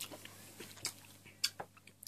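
Close, quiet chewing of tropical punch Kool-Aid flavoured American gum, with soft irregular mouth clicks and wet crunchy bites spread across the moment.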